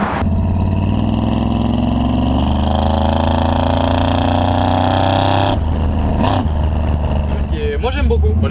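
A 1970 Chevrolet C10 pickup's engine revs up hard under acceleration, a loud rising drone that climbs steadily for several seconds, then drops and shifts, close and powerful throughout.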